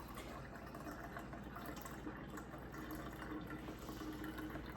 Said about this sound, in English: So then what you do is you just slowly pour it over.